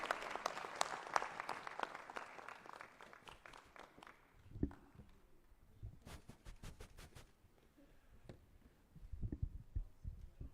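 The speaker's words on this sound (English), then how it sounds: "Let's clap to the Almighty God for bringing us here." Applause at a Ugandan luncheon honouring 2022 medalists, a dense crowd clapping loudly at first, then thinning into scattered individual claps that rise again briefly near the end.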